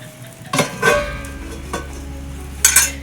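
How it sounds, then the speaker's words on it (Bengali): A spoon scrapes and stirs basanti pilaf in a cooking pot, several distinct scraping strokes with light clinks over a soft sizzle and low steady hum, close and fairly loud. "সেই জন্য একটু নেড়ে দিচ্ছি"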